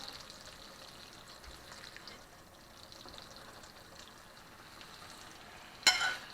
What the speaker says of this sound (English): we're going to go ahead and throw the other steak on.